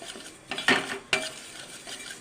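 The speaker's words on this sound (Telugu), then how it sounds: "ఇదిగోండి నువ్వుపప్పు వేపుతున్నాను" Sesame seeds roasting in a pan are stirred, with a few distinct scraping swishes and clinks of the utensil against the metal separated by short pauses, close and fairly soft over a faint background hiss.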